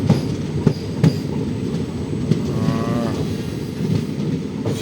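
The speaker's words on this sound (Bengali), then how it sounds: "ডুয়ার্সের জঙ্গল ভেদ করে যাচ্ছে আমাদের কাঞ্চনকন্যা এক্সপ্রেস।" The Kanchankanya Express rolls through the Dooars jungle with a steady rumble and rhythmic clatter of wheels over rail joints, mixed with a lowing cow or similar sound, and no voices.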